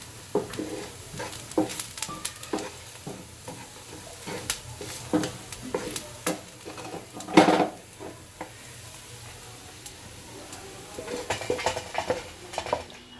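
Roasted peanuts being stirred and scraped out of a metal pan on a gas stove, with repeated clinking and scraping strokes and soft rattling of the nuts, close and moderately loud, no talk.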